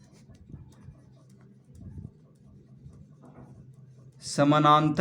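Marker or chalk scratches faintly on a board as a parallelogram-area math problem is written out, with soft intermittent strokes before a voice begins speaking clearly at the end.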